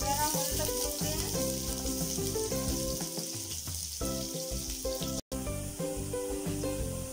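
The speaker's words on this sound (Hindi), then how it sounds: "अब हम इसमें प्याज डाल देते हैं, प्याज को भी हम एक दो मिनट गर्म होने तक भूनते हैं।" Onions and green chilies frying in hot oil in a pan for savory sevai, a loud, steady crackling sizzle. Stirring runs through it, with a brief cut near the end.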